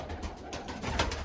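Iraqi pigeons coo softly in a short stretch of low, murmuring calls, with a slightly stronger swell near the end and no talk over them.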